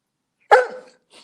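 A single sharp, close dog bark that rings out loudly and fades quickly, followed by a faint short trailing sound after a brief pause.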